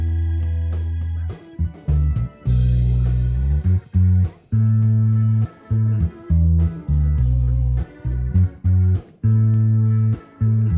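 A bass guitar playing a punchy riff through an amp speaker, close-miked with a condenser microphone, deep and loud with brief gaps between phrases.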